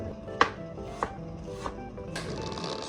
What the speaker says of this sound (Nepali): सुरुमा हामी प्याज काट्छौँ